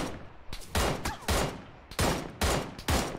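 Gunfire rings out in the PUBG video game: several loud, sharp shots come in uneven bursts about half a second apart, each cracking hard and fading quickly, with no voices over it.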